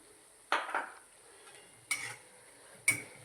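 Garlicky potato mixture with turmeric, garlic-chili paste and spices is stirred in a pan, giving three separate bursts of spoon scraping and clinking against the metal at a moderate distance, with quiet pauses between.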